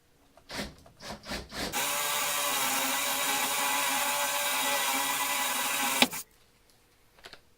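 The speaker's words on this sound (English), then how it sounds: "What I'm going to do is just drill a hole through here." A power drill with a 5/8 bit bores steadily through a wooden joist for about four seconds after a few short trigger bursts, then stops abruptly, close and loud.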